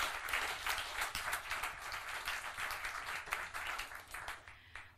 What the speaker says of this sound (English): Give her a round of applause, Deborah Beecher.